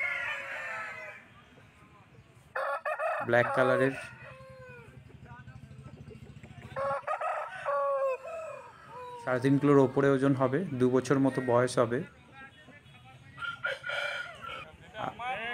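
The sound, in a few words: roosters crowing at a market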